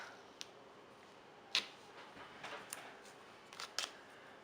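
Scissors trim paper for a floral-themed planner layout with a few sharp, quiet snips spread out across a hushed room, no voices present.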